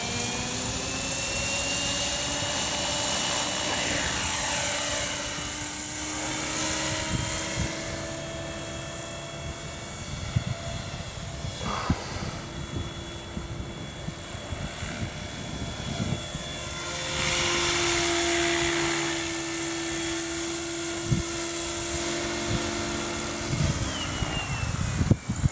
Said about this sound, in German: Versucht jemand seinen Helikopter mutwillig zu zerstören